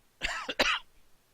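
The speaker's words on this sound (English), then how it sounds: "I got some allergies going on here, so pardon the coughing" Two quick, close coughs from someone with allergies, sharp and raspy with a short throat-clearing quality, followed by quiet.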